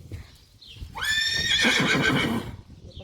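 A loud, close horse neigh on a horse farm in Germany rises sharply and holds in a long, wavering whinny before fading, with faint hoof and farm sounds around it.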